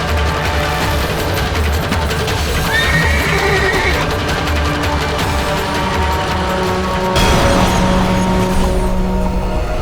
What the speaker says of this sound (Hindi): इससे पहले कि एक घोड़ा और सैनिकों को घायल करे, इसे पकड़कर रस्सियों से बांध दिया जाए।